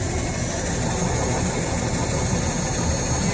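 A motorhome leveler hums and drones steadily while raising the rear of the motorhome, a constant mechanical whir with low vibration that runs unbroken throughout, no voices.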